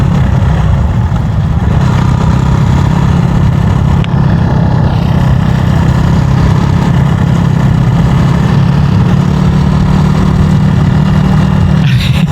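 Trail motorcycle engine on a beginner off-road riding course, a loud steady drone throughout with slight shifts in pitch as the rider changes gear standing up, wind noise over it and no speech.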